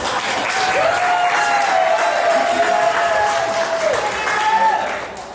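Wedding guests applaud after the bride's brother, who is also man of honor, introduces himself during the speeches. The clapping is loud and continuous, with crowd noise and a sustained tone over it, then it tapers off at the end.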